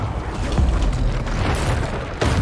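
Bombarda explosion spell cast in the video game Hogwarts Legacy, heard as loud booming blasts, with a couple of distinct bursts over a rumbling background.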